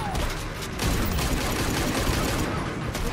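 Rapid bursts of gunfire from combo attacks in the fighting video game Injustice 2, dense crackling shots running throughout, with tournament commentary mixed underneath.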